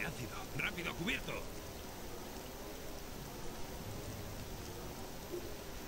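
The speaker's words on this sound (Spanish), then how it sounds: "Ah, esta lluvia parece ácido" Acid rain in the Star Wars Jedi Academy game, a steady hiss of rainfall filling the scene, with brief speech and a few sharp effects at the start.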